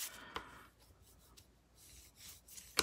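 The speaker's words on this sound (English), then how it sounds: "kind of rub this out with the bone folder" Quiet, intermittent rubbing of a bone folder across stamped paper, soft scratchy strokes in short bursts with pauses between, close and faint.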